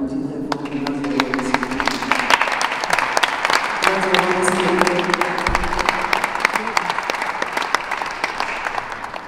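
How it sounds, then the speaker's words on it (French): A church congregation applauds loudly and steadily at a thanksgiving service, a dense patter of clapping that lasts throughout, with voices and cheers mixed in under it. "je vais te demander d'applaudir très fort."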